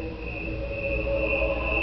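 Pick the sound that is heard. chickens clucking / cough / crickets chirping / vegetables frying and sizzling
crickets chirping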